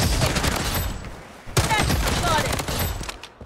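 Rapid shots from dual Glock pistols in the mobile shooter Blood Strike crackle almost without a break, loud and near, dipping briefly in the middle before another dense run of fire.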